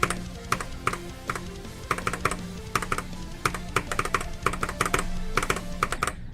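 Computer keyboard keys, the spacebar among them, tapped in quick clustered bursts during a game, crisp clicks in irregular groups of two or three, close and clear over a steady hum.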